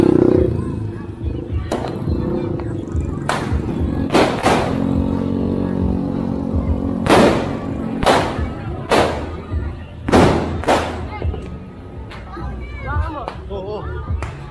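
New Year's Eve firecrackers in Tondo, Manila pop and bang repeatedly at irregular intervals, some sharp and close, with people talking and a busy crowd in between.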